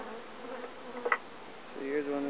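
Honey bees buzzing around an open hive during a warm-day inspection, a steady close hum with a brief louder rise as a bee passes near.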